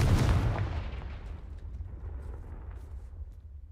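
Confringo fire spell blast in Hogwarts Legacy, a loud booming explosive burst at the start that rumbles and decays over a few seconds with faint debris crackles.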